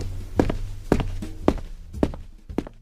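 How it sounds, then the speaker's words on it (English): Footsteps walk along a street in five evenly spaced, fairly close and distinct steps with a solid thud, nothing else heard around them. "like footsteps walking down the street"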